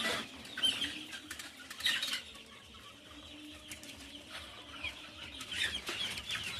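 Chickens cluck faintly in irregular bursts, with occasional wing flaps and soft rustling in a quiet, enclosed space.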